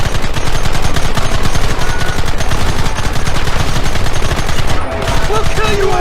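Heavy gunfire in the Red Dead Redemption video game, a loud, dense stream of rapid shots from several guns firing at once, nearly continuous and very close, with faint voices mixed in.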